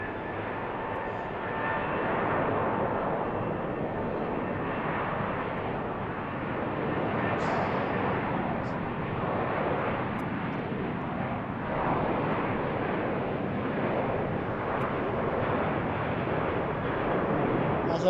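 An airplane departs BWI airport on an April afternoon, a steady, loud broadband engine roar that holds throughout with little change in level.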